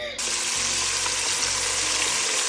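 Chicken wings frying in hot grease give off a loud, steady sizzle and crackle that runs unbroken from start to finish, close up in a home kitchen.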